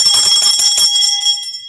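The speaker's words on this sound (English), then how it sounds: "We're ringing the bell for you." A bell rings loud and bright, sustained tones with a clattering start that cuts off partway, leaving a single fading ring at the end.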